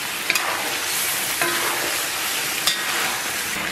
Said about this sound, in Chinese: 再次煸炒一下